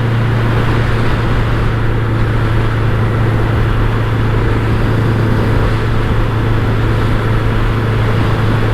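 A BMW K100LT motorcycle engine under brisk acceleration, a loud, steady, droning hum with wind rush, heard from on the bike with no talking.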